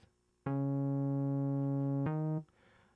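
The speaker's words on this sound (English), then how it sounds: "A sound typically used in R&B bass." A smooth R&B synth bass tone holds one long, steady note, then shifts briefly to a second note before cutting off. It is loud, clean and alone.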